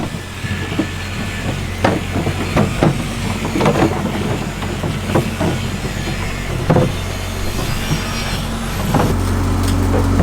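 A truck rumbles and idles nearby while maneuvering a trailer at the outdoor SEMA show, with a steady low engine drone, clanks and creaks of the hitch, and a rising whine near the end.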